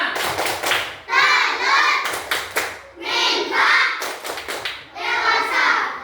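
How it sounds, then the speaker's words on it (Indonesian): An elementary classroom of third graders claps hands together in three loud bursts of rapid applause, separated by short pauses with faint talk between. "Ya, sekali lagi tepuk tangan."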